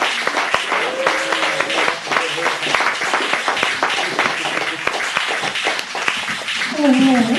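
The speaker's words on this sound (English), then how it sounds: "Please start applauding now and keep going." Audience applause at a poetry reading in Chicago's In One Ear venue, a continuous crackle of clapping from a small crowd heard under a voice talking over it, with scattered sharper claps throughout.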